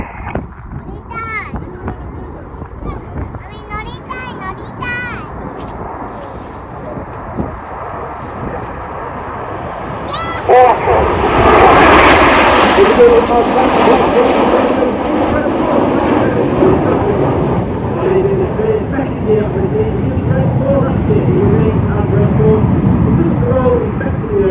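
Red Arrows jets trailing coloured smoke fly past at an airshow in Gatineau-Ottawa, a deep jet roar that swells loudly midway and lingers as a broad rumble, following a stretch of crowd noise and talking.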